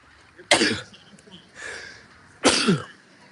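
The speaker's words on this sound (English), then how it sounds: "Had to sneeze." Three abrupt, forceful sneezes close to the microphone of a softball game commentator, spaced about a second apart, the first and last loudest.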